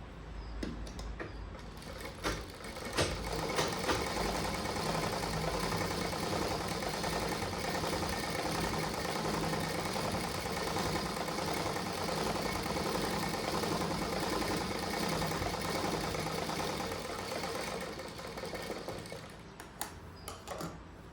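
A sewing machine stitching a blouse runs continuously for about fifteen seconds, a close, steady mechanical whir, starting and stopping near the edges.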